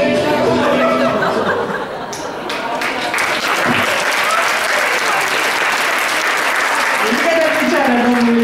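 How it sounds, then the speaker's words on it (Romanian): Hall audience at a class-reunion panel breaks into sustained applause with scattered chuckles and chatter, loud and dense throughout, dipping briefly before swelling again. "Nu mă aplaudați pe mine."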